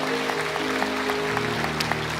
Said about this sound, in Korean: 우리 주님 앞에 감사와 영광의 박수를 다시 한번 올려드립니다